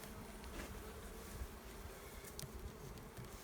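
Honey bees buzz in a continuous, steady drone during a spring hive inspection, close and fairly quiet with no voices.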